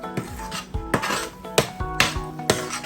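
Red chili powder being stirred into jalapeno chutney in a pan, with sharp metal spoon clinks and scrapes against the pan arriving in a fairly regular rhythm about every half second, close and clear.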